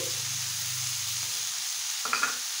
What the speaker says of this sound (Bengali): একটু ভেজে নিলেই ভালো হবে। একটু ভেজে নিই।